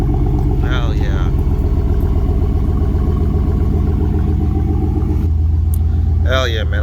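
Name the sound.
truck exhaust with 5-inch Carven ceramic tips revving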